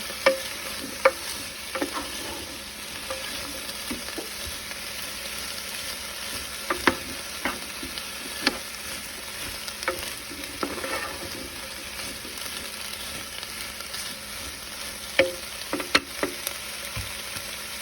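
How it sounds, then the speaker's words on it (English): Fajita vegetables and chicken sauté in a pan with a long, even, moderately quiet sizzle, dotted with scattered clicks and taps of a utensil stirring against the pan. "Just gonna saute these for a short time."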